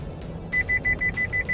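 Isuzu MU-X lane departure warning, a rapid series of about eight short, evenly spaced electronic beeps inside the cabin over low road noise.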